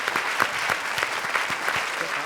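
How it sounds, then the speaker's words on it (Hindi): Studio audience at a comedy show breaks into brisk, steady applause, dense clapping that carries on evenly for a couple of seconds without talk. "जोरदार तालियां शान शकील के लिए।"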